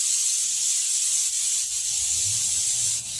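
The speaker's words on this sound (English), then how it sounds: "So, Baker's Joy, you spray it some more." Baker's Joy baking spray hisses steadily from an aerosol can into a cake pan for a pound cake, a close, continuous spray that holds for a few seconds without pause.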